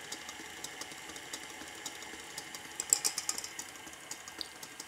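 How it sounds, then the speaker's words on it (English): Electric mixer running at low speed through gluten-free cupcake batter in a home kitchen, a faint steady whir with light ticking and rattles, fairly quiet and continuous throughout. "I'm going to turn my mixer down even a little bit lower"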